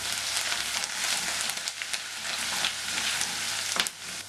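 Chopped ginger fries in oil with mustard seeds and fenugreek for a bitter gourd and carrot pickle, a dense, close crackling sizzle with scattered sharp pops and spits.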